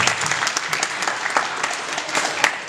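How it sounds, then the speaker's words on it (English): An audience breaking into warm applause, dense and steady clapping from many hands throughout, fairly loud with no talk over it. "Let's give a round of applause for him."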